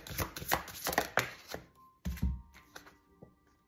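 Oracle cards are shuffled and drawn, giving a quick series of crisp riffling slaps followed by a few softer card taps and slides, close and quiet, with no voices.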